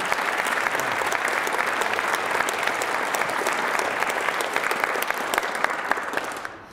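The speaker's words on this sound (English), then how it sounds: "Let's have one more big round of applause for all of our student speakers today." Sustained audience applause at a donor-scholar breakfast honoring student speakers, steady and full throughout with no voices on top, fading slightly at the very end.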